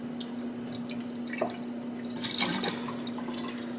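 Water drips and spills from a bowl of apple cider vinegar in a kitchen, soft splashes and trickles building into a brief louder pour near the end over a steady hum.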